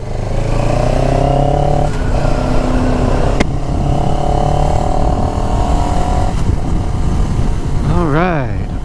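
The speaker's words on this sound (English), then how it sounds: "The engine has a nice little thump to it." A CFMoto CLX 700 motorcycle engine thumps and revs steadily on a test ride, pitch climbing through gears with shifts, loud and close, ending in a quick rising whine.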